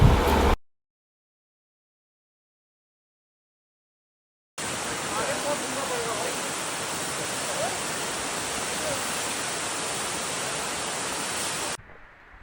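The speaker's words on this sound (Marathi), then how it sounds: "वरतून धबधब्याचं पाणी अंगावर पडत होतं" Water from the Siddheshwar waterfall pours down onto someone rappelling on a rope. After a brief sound at the start and a silent gap, a loud, steady, close roar of rushing water continues unbroken for about seven seconds and then cuts off.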